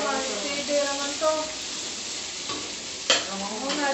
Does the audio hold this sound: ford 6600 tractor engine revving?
no